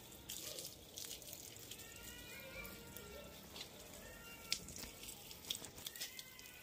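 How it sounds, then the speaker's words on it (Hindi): Water is poured onto potted plants, including a tulsi plant, in summer heat, a soft steady splashing and trickling up close, with faint light taps and no clear talk. "पौधों को पानी दे रहे हैं"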